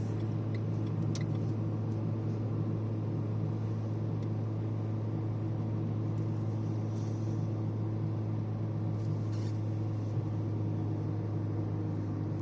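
A manual-transmission car engine drones steadily at a constant low pitch while straining in gear, close and unchanging, with a strained hum running throughout.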